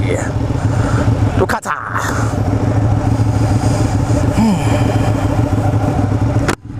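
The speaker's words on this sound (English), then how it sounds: "Riding 959 Ducati." A 2016 Ducati 959 Panigale motorcycle's engine rumbles steadily throughout, a continuous low drone beneath someone talking the whole time, with a brief dip partway through.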